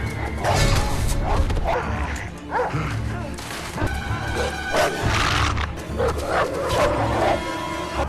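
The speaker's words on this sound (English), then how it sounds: "several feral dogs suddenly charged at him" Several feral dogs bark repeatedly and snarl up close as they charge, with yips and whimpers mixed in, a chaotic, overlapping series of barks over an agitated scuffling background.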